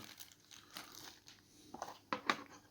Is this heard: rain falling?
no